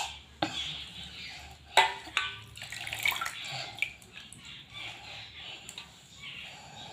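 Fresh home-grown fenugreek leaves being washed in a bowl of water in a home kitchen, with soft splashing and sloshing, a few sharper clinks and drips, moderately close and quiet, no talking.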